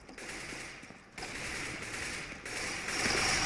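Rapid P250 pistol fire in CS:GO deathmatch, a loud, continuous burst of close gunshots with brief gaps, dense and harsh throughout.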